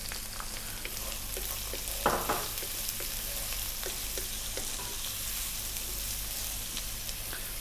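Cumin seeds and onion frying in a pan, a continuous close sizzle with scattered crackles and one sharper clatter as the onion goes in.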